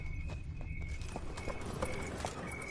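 Roach, a horse in The Witcher 3, gallops with a steady, rhythmic clip-clop of hooves. The hoofbeats are moderately quiet and run beneath constant background game sound.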